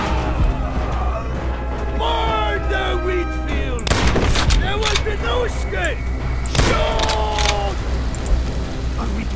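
Gunfire in the World War II shooter Call of Duty: World at War: sharp bursts of shots and booms break in around the middle and again later, mixed with battle noise under near-continuous in-game voices.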